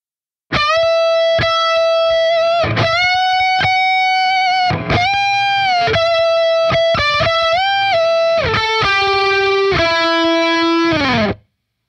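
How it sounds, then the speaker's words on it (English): Distorted electric guitar playing a melodic solo line on a single string with repeated string bends sliding pitch up and down, ending in a long downward slide; loud and alone. "So that whole bending part at the end is going to sound like this."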